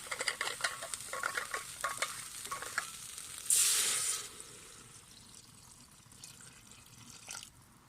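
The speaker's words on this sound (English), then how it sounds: "Right, let's get some water in there now." Water poured into a pot of vegetable curry soup with spices and lentils, a loud rushing splash lasting under a second after some sizzling stirring, then a quieter simmer.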